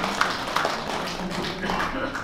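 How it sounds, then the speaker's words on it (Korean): An audience at a year-end literary society gathering and book launch applauds guests coming forward for a cake cutting, a steady patter of clapping running throughout with a few sharper claps standing out, while people talk over it. "큰 박수로 격려해 주시기 바랍니다"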